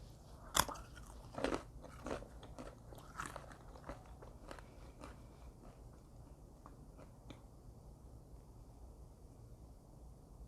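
Crunchy bites and chewing from a vegan lunch eaten close to the mic, with several sharp crunches in the first few seconds, then softer, sparser chewing that fades toward the end.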